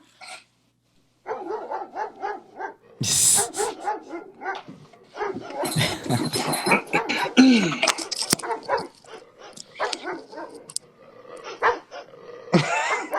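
Dogs fighting, with repeated sharp barks, yips, growls and whimpers, loud and close, followed by scattered barking and brief voices.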